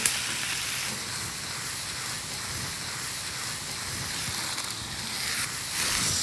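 Walnut katmer dough frying in an oiled pan, a steady close sizzle and hiss that holds evenly throughout with no talking.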